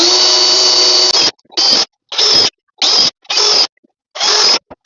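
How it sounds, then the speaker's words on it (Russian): A step drill bit bores a hole while fitting out a Sprinter 4x4 camper van's ceiling, loud, close high-pitched whine in one long burst then five short bursts separated by brief silences. "Так, взял ступенчатое сверло опять."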